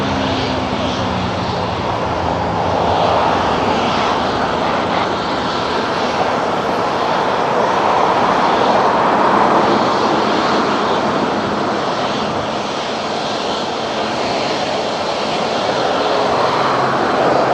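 A Caribbean Airlines jet airliner roars down runway 23 at Toronto Pearson on takeoff, a loud, sustained broadband engine thunder heard up close from start to finish, with no talk over it.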